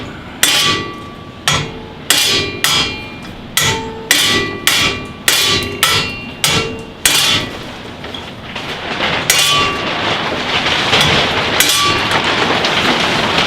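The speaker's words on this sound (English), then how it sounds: "So I'm going to use a sledgehammer this time." About ten heavy metallic sledgehammer blows on a 2004 Dodge Dakota's spindle ring out in a steady rhythm, loud and close, then fade into a noisy wash of rumbling background sound.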